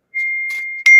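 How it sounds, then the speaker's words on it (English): Single clear bell-like ring with a sustained pure tone that lingers, followed by a few faint tinkling touches and a brighter strike near the end, quiet room otherwise. "did you hear that bell?"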